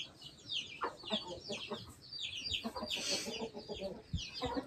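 Chickens cluck and a big rooster calls in a village farmyard, several birds vocalising close by in overlapping bursts without any talk.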